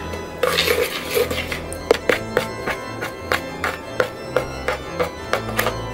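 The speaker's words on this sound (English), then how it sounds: "And then we mix it up." Doughnut dough ingredients, flour, sugar and a pinch of salt, mixed in a bowl, heard as a run of irregular clinks and scrapes of a utensil against the bowl, close and fairly crisp, with no talking.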